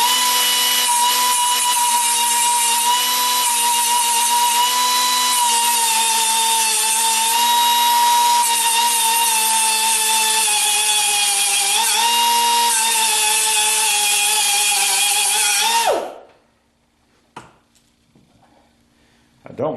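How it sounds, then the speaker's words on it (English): Power grinder cutting off a piece of bracket for a 1976 Corvette power steering pump, a loud, steady high-pitched whine held for about fifteen seconds before cutting out and spinning down, followed by near silence and a few faint knocks. "I'm just going to grind off that piece right there."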